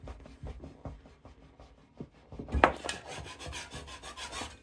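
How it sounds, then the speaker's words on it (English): Close-up rasping strokes of sanding on a surface, a steady back-and-forth scratching rhythm that grows louder and denser toward the end. "Bit of sanding and you won't see that again."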